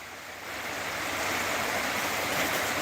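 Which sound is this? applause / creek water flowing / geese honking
creek water flowing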